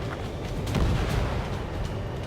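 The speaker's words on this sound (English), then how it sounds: "Missile away." A missile launch and explosion in the Ace Combat 7: Skies Unknown video game make a dense, rumbling roar with brief bursting swells, moderately loud and without voices.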